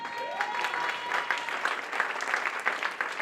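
Audience at a jazz education conference caucus session applauds, a steady crowd of clapping hands at moderate volume, continuous and fairly close, with a brief tone at the start.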